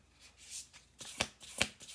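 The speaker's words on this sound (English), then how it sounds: "I can't really shuffle the whole flippin' deck. The cards are so thick." Thick oracle cards are shuffled by hand, a soft riffle building to several sharp, crisp slaps as the stiff cards knock together, close and quiet.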